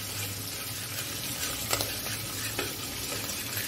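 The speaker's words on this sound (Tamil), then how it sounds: "முந்திரி பருப்பு வதங்குறதா?" Cashews sautéing in a pan for pongal, a steady close sizzle with soft stirring scrapes throughout, alone with no talk.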